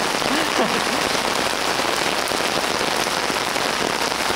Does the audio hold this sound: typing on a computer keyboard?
no